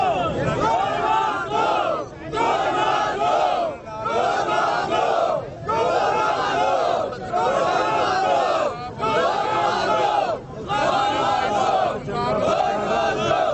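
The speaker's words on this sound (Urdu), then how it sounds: "وہاں پر لوگوں نے بعد میں کیا نعرے لگائے وہ بھی سن لیں" Crowd gathered at the site of a child's killing during a rally chants slogans in loud, rhythmic unison, repeated phrases with brief pauses between each call, filling the space with massed voices.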